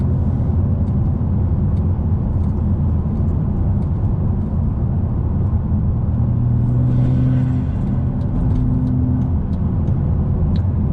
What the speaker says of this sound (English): the turbo spools up so quick, and the reaction to the gas pedal is just so nice, so quick